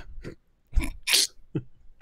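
A single sharp sneeze bursts out up close, framed by a few short breathy sniffs and mouth noises.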